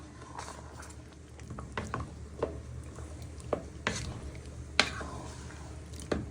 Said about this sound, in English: You give this one final stir so it's nicely stirred in well